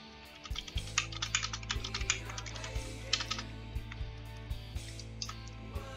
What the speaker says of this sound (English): Take a small break from your bricks and just type out this message.